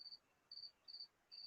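Crickets chirp in four evenly spaced, faint trilled bursts, each about a fifth of a second long, with quiet pauses between them, heard from a distance in a calm setting with no talking.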